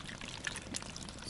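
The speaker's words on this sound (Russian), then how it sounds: "Просто заливаем сейчас. Сейчас пока, да, водой заливаем" Water being poured into a cooking pot to boil soup: a steady, close pour with a soft splashing hiss, lasting about a second with no talk.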